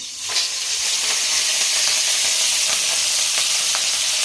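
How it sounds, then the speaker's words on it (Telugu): Onions fry in hot oil with mustard seeds, making a continuous loud sizzle and hiss with scattered faint crackles throughout, close up and without any talking. "సాసులు చిట్టపట్టలాడితే ఇప్పుడైతే ఆనియన్స్ వేసుకుందాము"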